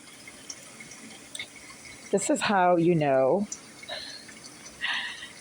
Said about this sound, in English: The sink is clogging up for no reason.